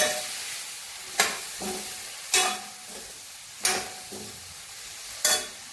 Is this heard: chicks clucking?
no